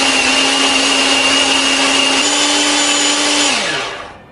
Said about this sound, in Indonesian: Bumbu ini akan kita haluskan menggunakan chopper ya.